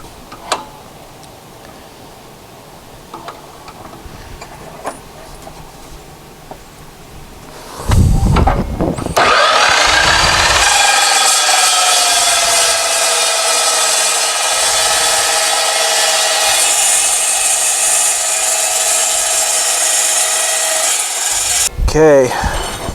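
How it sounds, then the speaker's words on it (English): A slow speed cut-off saw bites into metal, starting with a few scrapes and then a steady, loud grinding whine that holds for over ten seconds before stopping with a clatter. "If you're new to the slow speed cut-off saw, like this one, make sure you wear hearing protection and face shield, because this thing throws chips and it makes noise."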